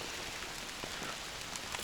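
Dense rain patters steadily on a surface, a continuous hiss of drops with occasional louder taps, no voices.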